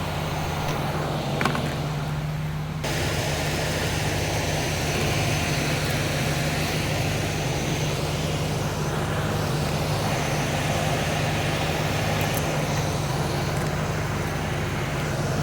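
A newly built Chevrolet small-block 350 V8 runs at a steady, loud idle with a constant low rumble and no break for the full stretch, with no talking over it.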